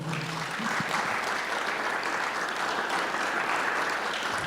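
A church congregation applauds steadily, a dense, sustained wash of many hands clapping together in a reverberant hall, with a faint low tone underneath.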